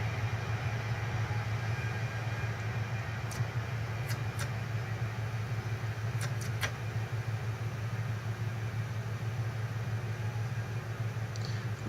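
Scotrail HST train braking in Train Simulator 2017, a steady low rumble of running gear and engine with a few faint squeal-like ticks, continuous and moderately loud throughout without talk.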